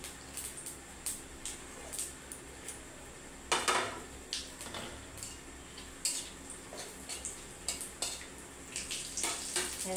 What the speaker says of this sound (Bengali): একটা শুকনো লঙ্কা দিয়ে দেবো, একটা তেজপাতা দিয়ে দেবো, দুটো জিরে দিয়ে দেবো।